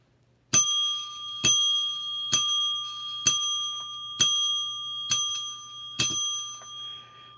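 A bicycle-style bell rings seven times in an even, unhurried rhythm, each bright ding decaying slowly before the next, loud and close against an otherwise quiet background.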